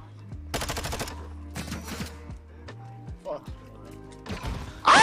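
Rapid bursts of gunfire from a shooter video game rattle in short automatic volleys, with a few single shots between them. Excited players talk over the shooting.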